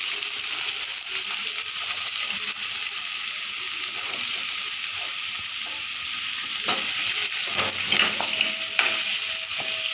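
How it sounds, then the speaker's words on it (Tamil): Chopped onions frying in hot oil in a pan for a dried fish thokku, a steady, close, loud sizzle with occasional stirring scrapes toward the end. "இப்போ கட் பண்ண வெங்காயத்தை சேர்த்துக்குவோம்."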